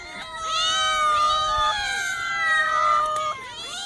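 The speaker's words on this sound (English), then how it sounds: "It's a cat. In fact, beyond that, it's several cats." Cats meowing in Montmartre Cemetery, drawn-out, rising and falling wails that overlap, close and fairly loud, several voices calling at once in a quiet outdoor setting.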